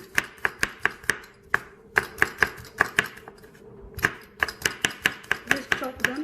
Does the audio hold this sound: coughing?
no